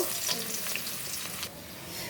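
A second batch of onions fries in a pot of hot oil for biryani, a bright continuous sizzle with faint stirring that eases off slightly partway through.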